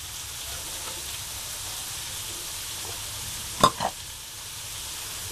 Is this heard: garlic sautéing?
yes